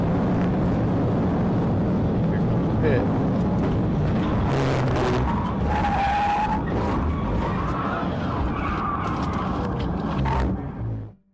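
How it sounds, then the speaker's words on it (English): A car skids and spins out after a police PIT manoeuvre in a high-speed chase, heard as loud, sustained tire squeal and engine roar close by that ends abruptly. "When the pit was executed, it caused the suspect to spin out"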